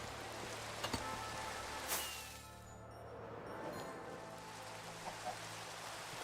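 Rain falling in a Minecraft world, a quiet continuous hiss with a few faint clicks and a slight dip midway, no voices.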